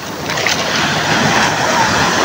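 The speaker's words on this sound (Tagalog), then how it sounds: "Oh, ayan yung alon, oh. Yung wave, oh." Loud, steady surf washes against the shore at a beach in Morong, Bataan, with a broad rushing roar and some wind noise on the microphone.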